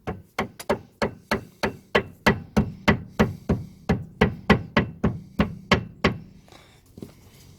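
A rubber mallet strikes freshly painted metal parts on a classic Mini about seventeen times in an even, steady rhythm of firm close knocks, then stops, leaving a quiet pause.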